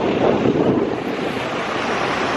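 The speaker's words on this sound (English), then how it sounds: "At the ocean." Ocean waves roll steadily onto the shore, a continuous loud wash of surf mixed with gusty wind buffeting the microphone.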